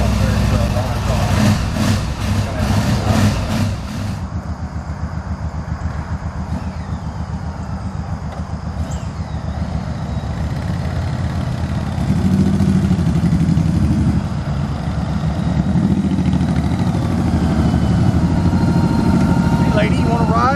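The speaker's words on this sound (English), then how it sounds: "Turn the bike on. Start right here. It doesn't idle very well on its own." Motorcycle engine starting up with choke applied, then running with a loud, uneven, rough idle that throbs steadily close by for a long stretch, with engine noise dominating throughout.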